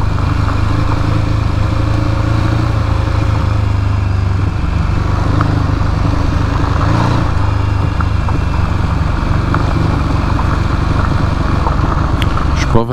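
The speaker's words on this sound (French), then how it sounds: "Pas vraiment dans le bon mode sur ma moto pour rouler dans la gravelle." A motorcycle without ABS or traction control rolls over unannounced gravel on a road between Lillooet and Clearwater, BC, its engine droning steadily and loudly the whole time under a constant rough rumble.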